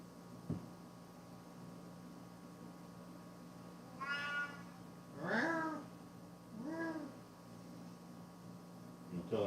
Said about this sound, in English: Why are you meowing so sad?